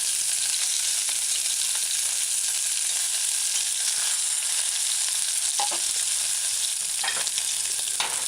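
Fish balls frying in a pan hiss and sizzle steadily and loudly for the whole stretch, with a dense bright crackle and a few small pops, no voices.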